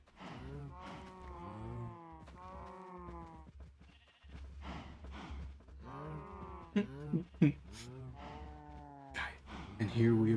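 Several long, drawn-out cow moos in a blocky sandbox video game, overlapping one another near the listener, with a few short sharp clicks toward the end.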